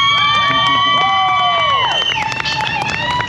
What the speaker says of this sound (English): let's hear a big round of applause for everybody that wants to see Wayne Penix